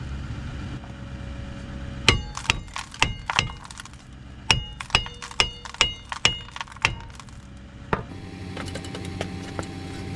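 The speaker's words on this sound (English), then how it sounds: "leave this loose and hit it with a hammer just to get all that rust knocked off of there" A hammer strikes a rusty brake component on a 2013 Jeep Wrangler repeatedly, about a dozen sharp, ringing clanks in an uneven rhythm, close and loud against quiet background.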